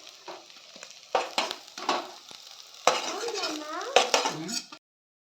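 Kohlrabi kofta balls fry in hot oil and are lifted out with a metal spoon, bringing soft bubbling sizzle and several sharp clinks and scrapes against the pan before cutting to silence.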